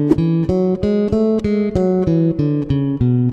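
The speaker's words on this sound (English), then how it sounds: "Major scale" Major scale played on a piccolo bass in a high register, about ten clean plucked notes stepping evenly one after another, each sustaining briefly with a clear bright tone, played alone and close.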